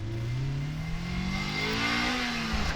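A Honda car engine with VTEC revs up steadily at an autocross event, pitch climbing over a couple of seconds, loud and close with a constant roar.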